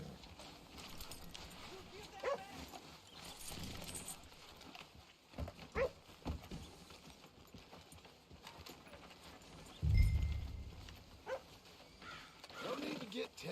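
Slow, uneven clip-clop of horse hooves in Red Dead Redemption 2 at moderate distance, with scattered thuds and a low rumble midway, over a quiet outdoor ambience.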